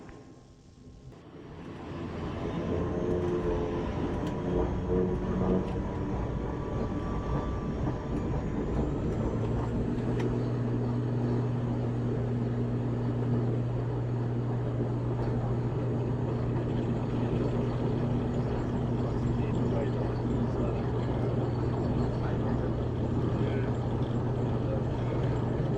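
A small plane takes off from the airport in Grenada. Its engine drone builds quickly at first, then holds loud, close and steady for the rest of the climb.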